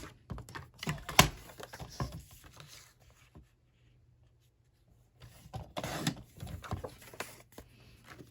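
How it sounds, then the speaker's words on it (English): Sharp scissors snipping Christmas-patterned scrap paper down into 4x4 pieces, crisp irregular cuts and paper rustles close by, pausing into near silence in the middle before resuming. "So I'm just cutting them down to 4x4."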